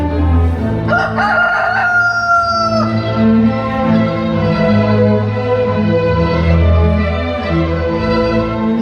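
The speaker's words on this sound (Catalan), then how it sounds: "A l'instant va cantar un gall." A rooster crows once, a long rising and falling call near the start, followed by low sustained background tones, part of a light and music show at the Sagrada Família, Barcelona.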